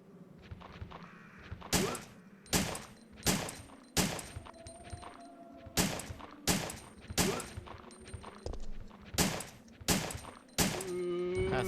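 Gunshots fired at a zombie in Resident Evil 3, about ten loud sharp reports in a steady, evenly spaced rhythm, each with a short echoing tail.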